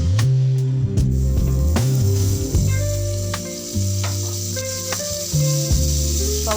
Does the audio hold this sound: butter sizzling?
yes